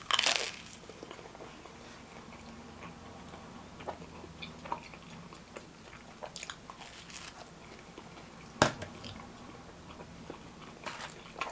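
Someone bites into and chews a slice of grandma pizza topped with garlic and oil, close crunchy bites and soft mastication under a low steady background, with one sharp louder crunch partway through and no talking.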